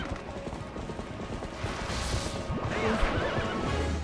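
Horse whinnies and clip-clopping hooves during a horseback chase in the video game The Legend of Zelda: Twilight Princess, steady galloping throughout with a neigh rising near the end over battle noise.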